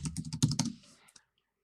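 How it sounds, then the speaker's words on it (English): Several quick keystrokes tap on a computer keyboard as a terminal command is entered, a close, crisp burst of clicks that stops abruptly, followed by one last isolated key press. "We just type sudo and then paste in the command."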